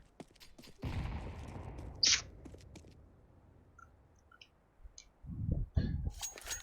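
A grenade is thrown and bursts in the CS:GO first-person shooter, giving a sharp metallic clink and then a loud, rumbling blast that fades, followed by scattered clicks and another burst of gunfire close by.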